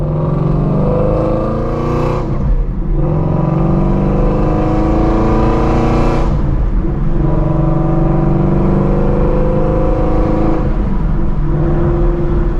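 A deep, rumbling exhaust from a cammed, supercharged 650 hp 1999 Mustang GT V8 drones loudly and continuously, rising and falling as the engine revs up and shifts through gears.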